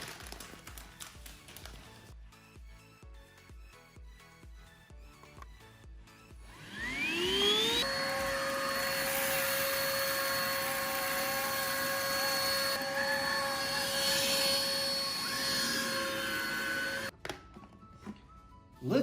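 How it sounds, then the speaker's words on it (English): A Hoover One Power cordless upright vacuum cleaning carpet starts up after a stretch of quieter handling noise, then holds a loud, steady motor whine with a sustained tone for about ten seconds before cutting off. "purchase your own Hoover One Power Cordless Upright Vacuum"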